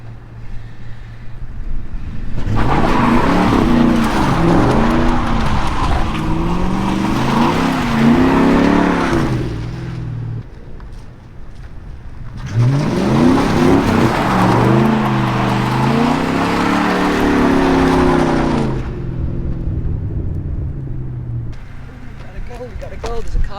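A high-mileage Ford Mustang GT does donuts, loud revving engine surges with tire noise in two long bursts separated by a quieter pause, while people talk over it.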